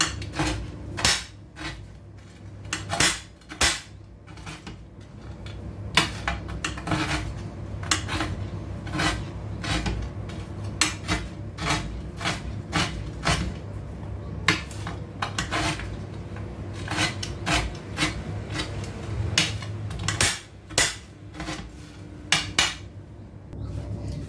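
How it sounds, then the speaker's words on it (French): Oreo cookies being chopped into large pieces with a knife, a long run of sharp, irregular chopping knocks against a board with brief pauses, close and fairly loud, with no talking. "Je prends l'équivalent de allez, 8 pièces que je vais couper en gros morceaux"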